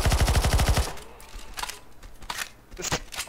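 Gunfire aimed at a boss in CS:GO Zombie Escape: a rapid, loud automatic burst of about a dozen evenly spaced shots, then scattered single shots and impacts after a brief lull.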